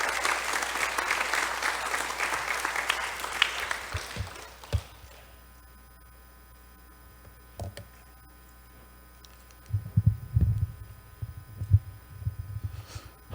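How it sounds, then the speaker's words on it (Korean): A church congregation claps to welcome a missionary to the pulpit, a loud burst that fades out after about four seconds, followed by near silence and a few low thumps and rustles as he steps up. "선교사님 나오실 때 박수로 환영해 주시면 감사하겠습니다"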